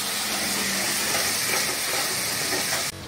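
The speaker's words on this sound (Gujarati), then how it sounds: "હવે નાખી દીધું આપણે મરચાના આદુનું પેસ્ટ જે બનાવ્યું હતું એ." Chili-ginger paste sizzling loudly in hot oil as a tempering for pani puri filling on a gas stove, a dense continuous hiss that cuts off abruptly at the end.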